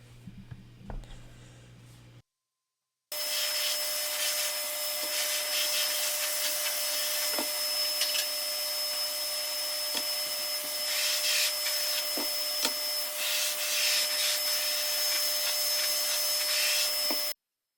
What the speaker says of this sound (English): it's spraying out a good amount of paint, getting that primer on nice and thick, and it's atomizing really beautifully